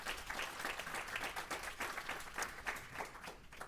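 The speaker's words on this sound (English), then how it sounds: "Round of applause for our panelists." An audience at a fitness and oral health panel event applauds the panelists, a brief steady round of crowd clapping, somewhat distant and quiet.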